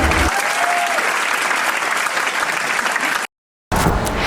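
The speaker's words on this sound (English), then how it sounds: "Everybody clap as if you were tired" Dense, loud applause from an audience at a teachers' and librarians' contract announcement, sustained for about three seconds before cutting to silence, then resuming briefly.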